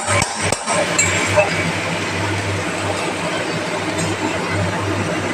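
A metal lid clanks onto a pan where pumpkin flowers fry with poppy-seed paste: one short, sharp knock near the start, then a steady low kitchen hum and faint sizzle.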